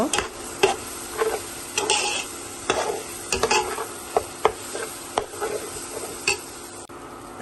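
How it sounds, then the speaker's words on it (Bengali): Spices and onions with salt frying in a pan, a continuous close sizzle with repeated scraping and clinking stirring strokes against the pan at an irregular rhythm. "লবণটা দিয়ে আমি মশলাটা আরও ভালো করে ভুনা করে নিব"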